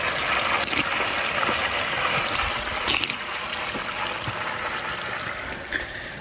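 Spring water trickles steadily beside a park trail under construction in Dharan, a close, continuous watery hiss with a few brief splashes and no voices.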